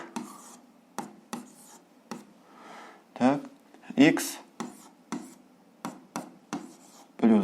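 A pen writes on paper while working a seventh-grade algebra exercise. Short scratchy strokes and taps come close and fairly loud in an irregular rhythm, mixed with occasional brief voice sounds.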